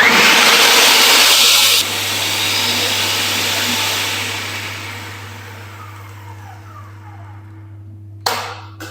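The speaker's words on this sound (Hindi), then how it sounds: "तकरीबन यहाँ पर मैंने 20 से 25 सेकंड तक ही चलाया है चॉपर को" An electric chopper whirs steadily as it chops onions, a loud broadband motor roar that drops in level after about two seconds, then fades gradually, with a brief clatter near the end.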